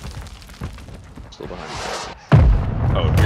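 Airstrike explosions in Call of Duty Warzone, with scattered thumps early on, then a rising rush and a sudden, heavy boom that rumbles on loudly to the end.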